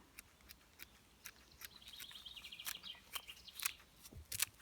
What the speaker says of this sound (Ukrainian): Зелень я трішки наріжу ножицями.